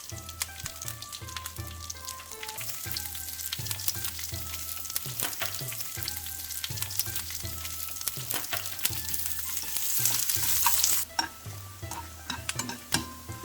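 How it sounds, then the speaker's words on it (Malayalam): Onions and curry leaves sauté in hot oil in a pan for a Kerala salmon curry, a steady close sizzle broken by repeated rhythmic scrapes and stirs of a utensil against the pan. "നന്നായിട്ട് ബ്രൗൺ ആകുന്നവരെ വഴറ്റിക്കൊണ്ടേയിരിക്കുക"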